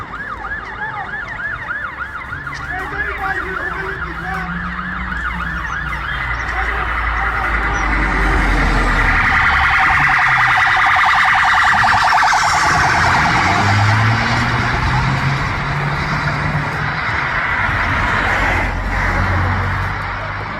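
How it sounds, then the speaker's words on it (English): Wailing police sirens rise and fall continuously, loud and persistent, with voices and traffic noise mixed underneath. "You can hear the sirens in the background."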